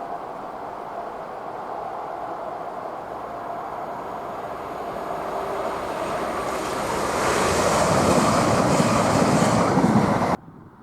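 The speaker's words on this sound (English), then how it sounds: "Next, we see ScotRail Class 170, 17406, as it descends from Dromocta Summit, the highest point on the national network" A ScotRail Class 170 diesel train descending from Drumochter Summit, a broad rushing rumble that swells louder as it nears, then cuts off abruptly at the end.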